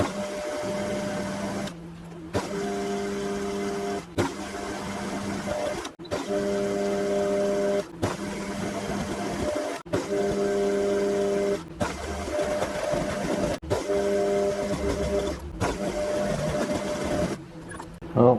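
A homemade metal lathe takes light cuts, its motor whining steadily in repeated runs of about two seconds with brief quiet gaps between them. No one talks.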